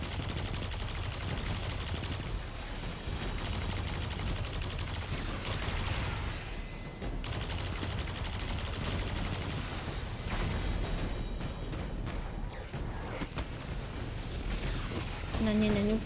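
Rapid hand cannon gunfire in the Destiny video game, with dense, repeated loud shots and impacts over a steady battle din during a solo run of the Grasp of Avarice dungeon.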